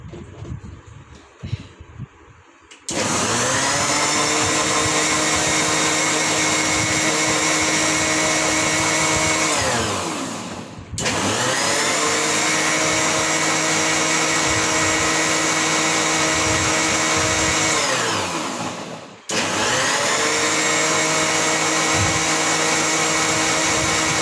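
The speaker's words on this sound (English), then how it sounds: "So now let's grind it." A blender grinding a banana milkshake with a little sugar runs loud and steady in three long bursts, each winding down briefly before starting again, with no talking.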